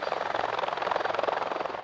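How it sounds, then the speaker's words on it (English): A military helicopter flies over the Canadian Arctic, its rotor giving a loud, rapid and steady throbbing beat with a constant high whine above it, and no talk. "military helicopters are bound for a mountaintop"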